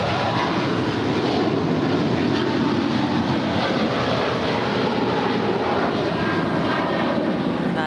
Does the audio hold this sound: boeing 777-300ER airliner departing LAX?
yes